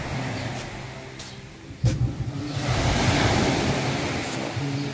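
Sea waves at a beach resort in Kayupo, Sarangani Province roll in as a continuous broadband wash, with a louder surge of surf breaking midway and wind rumbling in the background, with no talking.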